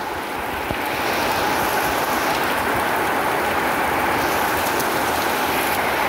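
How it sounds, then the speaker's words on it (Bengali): Steady autumn rain falls in the Bangladeshi countryside on a rainy morning, a dense, even hiss of drops that holds at a constant loudness throughout, with no voices. "বৃষ্টির সঙ্গে সঙ্গে মিষ্টি বাতাস বয়ে যাচ্ছে।"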